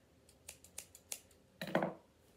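Scissors snip yarn for a Christmas mantel garland, giving several light, crisp clicks followed by one louder, longer cut, close up with no talking.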